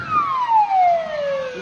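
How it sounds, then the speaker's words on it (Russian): A fire engine siren wails as the truck arrives at the scene of a passenger plane crash near Menzelinsk in Tatarstan, Russia, one clear descending tone that sounds loud and close over a low rumble of traffic. "Пожарная подъехала."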